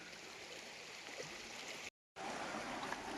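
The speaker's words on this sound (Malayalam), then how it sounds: "ഇതിൻ്റെ കീഴക്കൂടെ ഇങ്ങനെ ഒരു ചെറിയ പുഴ ഇതുകൊണ്ട് ഒഴുകി പോകുന്നത്" A small stream trickles and gurgles under a tree in the Idukki hills, a soft, continuous close flow broken by a brief moment of silence.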